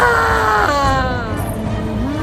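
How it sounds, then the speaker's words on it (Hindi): A vampire witch shrieks in pain as a horror story effect, a loud drawn-out wailing scream whose pitch sweeps and drops, followed by a lower moaning cry. "रक्त पिशाचनी दर्द के मारे चीखी"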